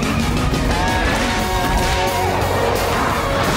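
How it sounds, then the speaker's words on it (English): Big magic spatulas smashing down in a Blaze and the Monster Machines kids' video game, heavy crashing thuds under a busy layer of game music and engine noise, continuous and loud. "We've got five smashing spatulas right behind us!"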